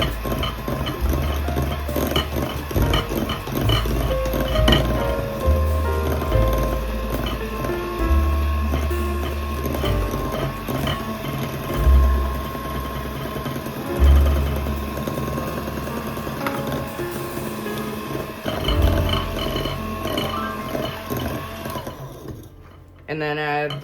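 An electric mixer churns snickerdoodle cookie ingredients with a steady motor drone and intermittent bowl clatter, running on and off for about twenty seconds before cutting out, with talk over it.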